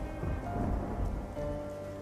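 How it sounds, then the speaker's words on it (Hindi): Cold-season rain pours down in a cartoon, a steady hiss of rainfall with a low rolling rumble of thunder underneath, moderately loud and without voices. "ये बारिश का सिलसिला यूं ही कुछ दिन तक जारी रहता है।"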